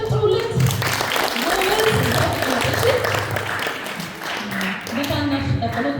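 An audience at a children's and youth Bible quiz competition applauds a child contestant, with a broad wash of clapping running under continuous speech from a nearby voice.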